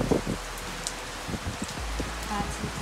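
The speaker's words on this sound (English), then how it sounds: "It's raining, it's pouring." Steady rain patters on a surface, with scattered drops tapping irregularly and a faint voice in the background.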